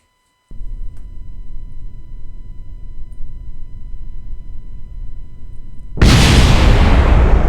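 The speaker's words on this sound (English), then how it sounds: "Why is that exploding?" A rocket in Kerbal Space Program blows apart with a sudden loud, broadband blast that cuts in over a low steady rumble of engines and holds as a roaring burst to the end.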